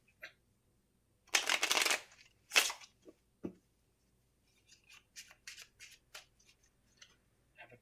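A deck of playing cards is shuffled close up in a triangle shuffle: a loud riffling burst, then a second shorter riffle, followed by quieter scattered snaps and taps of cards being squared and handled, with no voices.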